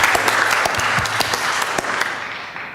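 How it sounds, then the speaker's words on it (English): Audience applause at a panel discussion: dense, steady clapping from a crowd at moderate loudness, holding for nearly three seconds before beginning to thin out at the end. "you can applaud again"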